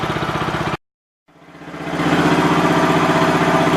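A Kawasaki engine on a Gravely 5200 tractor, just repaired and warming up, idles with a steady throb, cuts out briefly, then resumes and builds to a louder, even running note.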